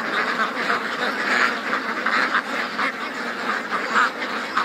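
Ducks quack in a dense, continuous chorus at close range, the rapid calls overlapping steadily without pause.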